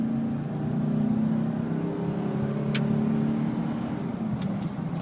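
A 2010 Chevrolet Silverado pickup cruises along with its engine humming steadily, a mid-pitched drone that rises and eases slightly as the truck shifts smoothly. A couple of faint clicks sound near the end.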